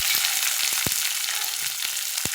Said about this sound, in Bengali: এইবার এই দেখো পেঁয়াজ দেবো।